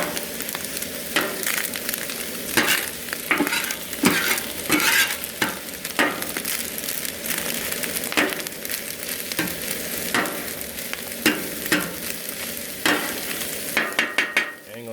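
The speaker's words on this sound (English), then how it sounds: "Got my half a stick of butter melting, throw it in there." Food sizzles in melting butter on a hibachi griddle while a utensil stirs it, with steady frying hiss broken by frequent scraping and clacking strokes, close and fairly quiet.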